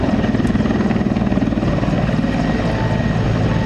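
Mi-24 Hind attack helicopter maneuvering, its loud, steady rotor thump and engine roar close and continuous throughout, with no voices.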